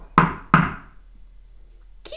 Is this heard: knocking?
yes